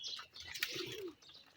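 A pigeon coos once in a short, close, moderately loud call, surrounded by soft chirping and the brief flutter of wings, with no talking.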